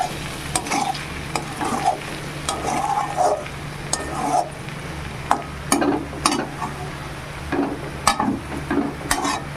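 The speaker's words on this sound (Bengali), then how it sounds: "এবার আমি লো ফ্লেমে ঢাকা দিয়ে দিয়ে আলুগুলোকে খুব সুন্দর করে ভেজে নেব" Boiled potatoes frying over a low flame in a covered pan, a steady soft sizzle broken by repeated scraping and stirring clatters from a spatula against the pan.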